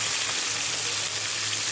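Onion, green chilli, carrot and potato fry together in a pan, giving a continuous loud, close sizzle with a steady crackling texture and no talking.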